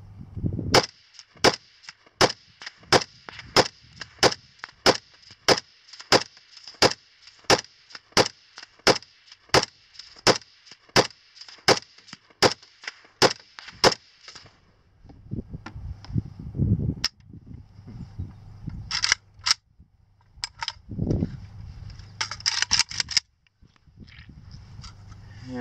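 Rifle shots fired at 100 yards from a Galil with a 30-round magazine ring out as a rapid, evenly spaced string of sharp cracks, followed by a few scattered handling clatters and quieter noises.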